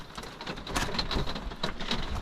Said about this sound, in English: It hasn't stopped raining for all day. It's raining.